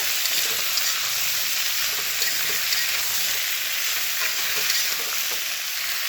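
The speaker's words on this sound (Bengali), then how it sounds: "এবারে দেবো কুমড়ো পুঁইশাক, ভালো করে ভেজে নেব" Pumpkin and Malabar spinach fry in a pan with an even, bright hiss that holds steady throughout, with faint soft stirring underneath and no voices.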